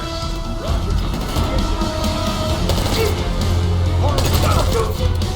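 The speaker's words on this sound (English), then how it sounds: "Jefferson, open fire!" Dense video-game gunfire from Black Ops 6: rapid crashing shots and bursts sustained for several seconds at a loud, steady level, with shouted voices and battle noise mixed in.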